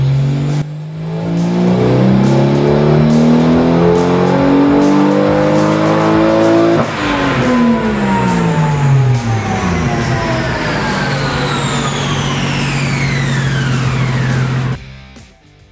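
A loud, tuned 1300-horsepower Toyota Supra engine, running on 17% ethanol fuel, revs hard at full power, its pitch climbing steeply, dropping briefly at a gear change, then climbing again.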